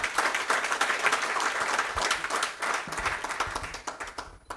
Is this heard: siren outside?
no